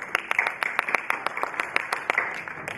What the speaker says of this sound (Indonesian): sambil kita beri aplaus